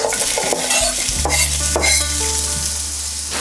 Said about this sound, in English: you wanna go in there with your peppers